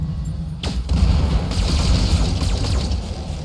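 Mech weapons firing a precision strike in the BattleTech video game, a sudden loud blast followed by a dense roaring barrage of impacts that keeps going, heavy and close.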